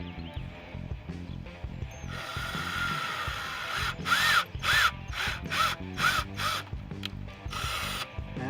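A power drill whines in repeated short bursts, drilling out a metal rivet with rattling mechanical noise between pulses, close up.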